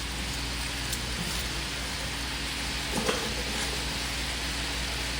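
Cabbage crackles and sizzles steadily in a hot skillet, a soft, even hiss of frying with a faint clatter near the middle, and no talking.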